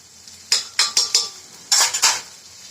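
A metal spoon scrapes and clinks against a pan while ground spices, including fennel, red chili, coriander and garam masala, are mixed in, giving about six sharp, close strokes in two quick bursts.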